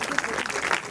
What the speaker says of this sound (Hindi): जरा तालियां इनके लिए बजा दीजिए